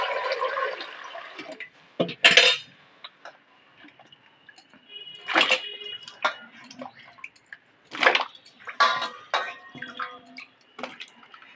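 Raw mangoes being washed by hand in a bucket of water, with irregular close splashes and sloshing bursts separated by quiet pauses, and no voices.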